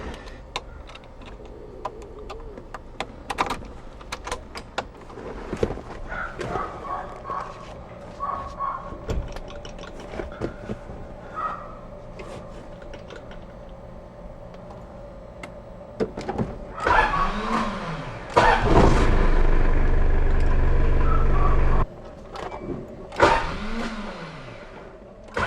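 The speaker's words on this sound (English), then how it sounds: "Motor's working good, but still something wrong with the magnetic switch." Rocsta R2 starter motor, freshly installed but with a faulty magnetic switch, whirs loud and close in short bursts of a few seconds each after scattered clicks and clunks.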